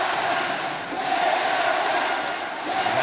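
Basketball arena crowd at an ASEAN Basketball League game between CLS Knights Indonesia and Saigon Heat, roaring and cheering in a dense, sustained wash of noise after a big play, with commentary voices mixed in underneath.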